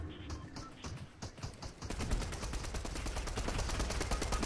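Rapid gunfire in the video game Fortnite, with a few spaced shots giving way to a dense, steady burst of repeated reports, loud and continuous over game noise.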